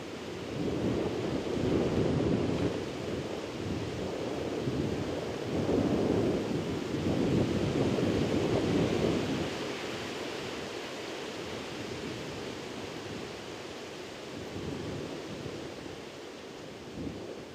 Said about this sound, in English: There's a lot of wind at the moment, folks, where we are in this open area.